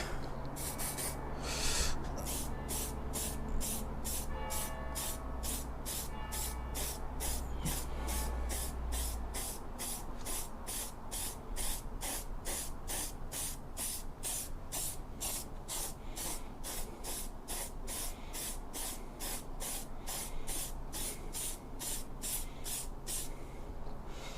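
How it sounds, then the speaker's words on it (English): A spray can of clear coat hisses continuously for a long stretch outdoors, with a rapid, regular rattling pulse running through it and low wind rumble early on. "Let me just clear coat this."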